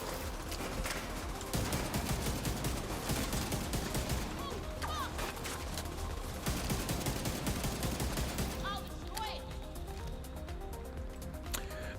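Rifle shots from The Division 2 crack in repeated quick volleys throughout, steady and moderately loud, layered with other battle noise.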